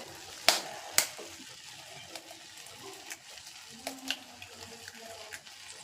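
Beaten eggs are poured into a pan where brain is frying, giving a faint, steady sizzle with two sharp clicks near the start and a few soft taps after.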